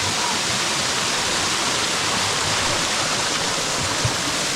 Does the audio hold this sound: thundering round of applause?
no